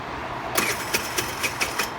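A carbureted 50cc motorcycle engine cranks over with a rhythmic series of pulses after a brief quiet moment, close by, without quite settling into a steady idle.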